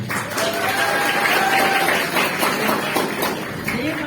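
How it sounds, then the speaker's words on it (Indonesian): An audience at a Maulid Nabi religious gathering breaks into steady, fairly close applause lasting several seconds, with voices calling out over the clapping. "Tepuk tangannya."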